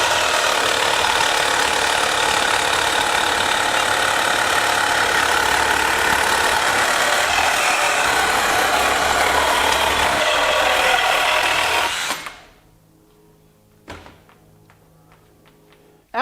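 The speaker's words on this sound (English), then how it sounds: "Let's make one more cut in this heavy gauge angle," A Ryobi HP One+ brushless one-handed cordless reciprocating saw cuts through heavy-gauge steel angle, a loud, steady buzzing grind lasting about twelve seconds, then stopping abruptly and leaving near silence with a faint clunk.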